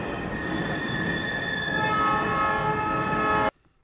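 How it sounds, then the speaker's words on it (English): A train rumbles past in a 1970s film scene, its wheels squealing loudly and steadily for several seconds before cutting off abruptly, with no talking. "It's lucky the train's coming by right now."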